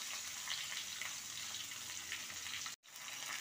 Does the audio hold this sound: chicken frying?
yes